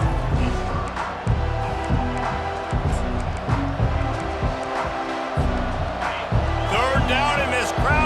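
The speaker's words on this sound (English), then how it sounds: "this crowd is tearing the lid off this place." Loud stadium crowd roar fills a college football video game against FSU, a dense sustained wash of cheering beneath continuous play-by-play commentary and game music, swelling near the end as a touchdown run unfolds.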